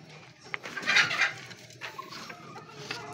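A young gamecock clucks in a few short, scattered calls close by, with light farmyard background and no talking.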